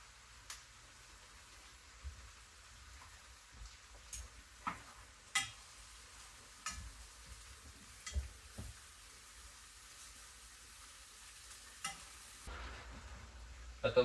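Smash burgers cook on a griddle with a faint, steady sizzle, broken by scattered clicks and scrapes from a spatula.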